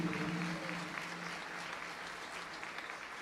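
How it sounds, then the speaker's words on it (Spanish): Audience applause in a religious gathering, a steady wash of clapping from many hands that stays fairly even and fills the whole moment. "un aplauso al rosario"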